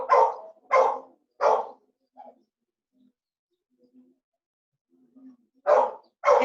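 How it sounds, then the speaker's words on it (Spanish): A dog barks in bursts over a Zoom call: three sharp barks, a lull with faint yelps, then two more barks, fairly loud and close to the mic with no talking. "se escucha mucho tu perro"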